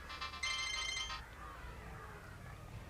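A mobile phone ringtone plays loud and close as a short melodic burst, then fades into quieter room noise.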